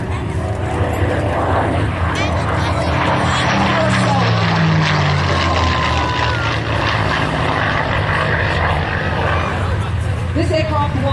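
A Supermarine Spitfire, a 1943-built WWII fighter, passes with a loud, rough propeller-engine roar that swells and fades under steady outdoor noise; someone speaks over it.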